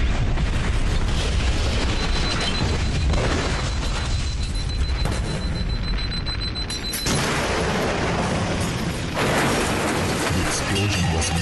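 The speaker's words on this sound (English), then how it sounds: "The explosion was massive" Heavy rumbling blasts and crackling debris fill the clip, a dense, loud roar with abrupt surges like a large explosion.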